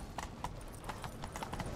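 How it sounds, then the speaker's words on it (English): Horse hooves in The Witcher 3 beat out a quick, steady galloping rhythm, up close and fairly loud, with no talking. "Grab a horse, we'll chase him down."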